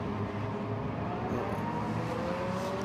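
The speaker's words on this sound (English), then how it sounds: "We're just hearing the 99 car coming down pit lane" A race car from the Asian Le Mans Series 4 Hours of Sepang runs through the pit lane, a steady distant engine drone with a faint rising whine, heard alone without talk.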